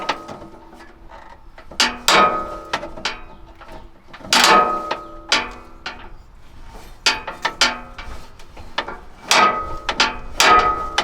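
The stock tire jack of a lifted Ford Econoline is cranked by hand in irregular bursts of mechanical clicking and scraping, close by, with brief pauses between turns.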